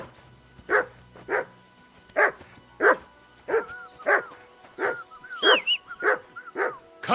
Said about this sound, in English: That barking was a pain in the ass.